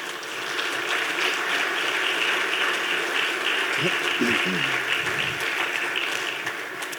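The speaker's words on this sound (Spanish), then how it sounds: "Vamos a darle un fuerte aplauso a Dios por eso" Congregation applause at a Spanish-language church service: a steady, dense wash of clapping that holds for several seconds at an even level, with a few faint voices beneath it.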